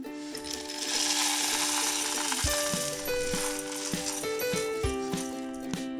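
A kitchen mixie jar grinding roasted horsegram with salt into a coarse chutney, a loud close motor whine whose pitch steps and shifts as the load changes, with rattling from the jar.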